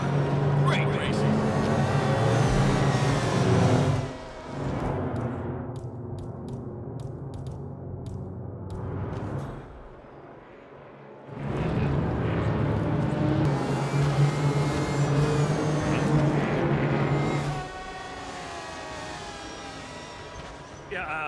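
Racing cars roaring past on a track in Hitman 2, loud engine drone that rises and fades, dropping away mid-clip before surging back, with a commentator's voice running over it.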